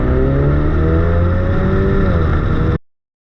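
A 2021 Ford Mustang EcoBoost engine revs loudly and steadily with a deep, throaty hum, rising slightly in pitch, then cuts off abruptly near the end.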